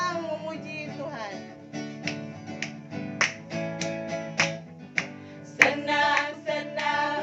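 A church congregation clapping hands in time during a hymn at a worship service, sharp rhythmic claps and snaps over singing and instruments, moderately close.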